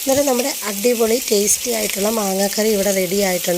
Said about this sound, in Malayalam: നമ്മുടെ കിളിമീൻ വറുത്തത് ഇവിടെ റെഡി ആവുന്നുണ്ട് കേട്ടോ